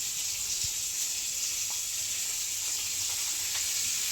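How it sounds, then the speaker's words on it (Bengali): Fish frying over a traditional clay stove in a home kitchen, a steady close hiss of sizzling oil that runs without a break, with a few faint clinks behind it. "মা ওইখানে মাছ ভাজা চলছে"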